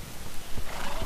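A horse neighs in a survival video game, a short whinny with clopping hooves, fairly close and clear over faint background noise.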